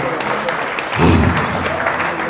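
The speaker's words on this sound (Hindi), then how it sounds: "इनके लिए जोरदार तालियों से इनका स्वागत किया जाए।" Applause from a crowd at a community ceremony for a Vishwakarma Jayanti gathering, a short burst of clapping in a noisy outdoor setting, swelling briefly in the middle and mixed with background voices.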